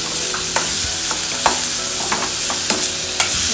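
Carrot, cabbage and spring onion whites fry in a pan for a hot and sour vegetable soup, giving a steady close sizzle broken by several sharp clacks of stirring, with no talking.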